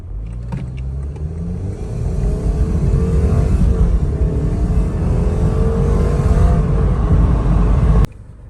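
A 2020 Lexus IS 300 F Sport sedan engine roars as it accelerates hard from 0 to 60, its pitch climbing steadily and loudly close by for several seconds before cutting off abruptly.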